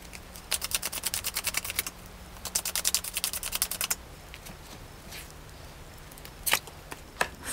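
Tarot cards are shuffled and drawn in quick, close, crisp runs of fluttering clicks, two long riffling bursts followed by a few soft, isolated flicks, with no voices.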